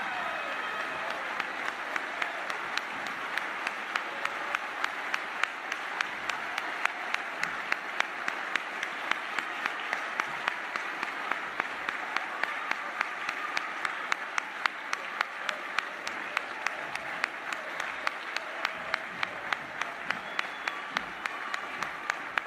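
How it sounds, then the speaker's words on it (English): A large audience at the 2023 National Football Foundation awards dinner applauds the college inductees, with steady, dense clapping that holds for the whole stretch, loud and sustained and with no voices over it. "let's give those inductees a big, big round of applause"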